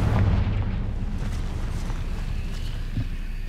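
Confringo spell explodes in the video game Hogwarts Legacy, a loud, deep boom at the start that trails off into a rumbling low-frequency tail.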